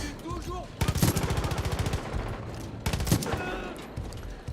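Rapid rifle fire in the video game Far Cry 5, with two loud bursts of fast, evenly spaced shots close by, each followed by echoing gunfire and some talk in between.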